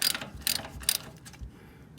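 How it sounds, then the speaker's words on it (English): Ratchet with a 10 mm socket loosening hand-tight bolts on the sump plate of a classic Porsche 911, a few quick close clicking bursts, then quiet. "Now to remove this bottom plate, they're just all 10 millimeter sockets,"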